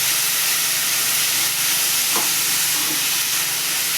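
Sweet modak filling of jaggery, with cashews and almonds going in, sautéed in a pan with a steady, dense sizzling hiss that holds throughout, plus a brief soft stir or scrape near the middle; no voices.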